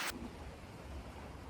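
Stormy rain and wind on a warm, nasty day at a Vermont bobcat trapping site, heard as a steady, moderately faint broadband wash after a brief louder burst at the start.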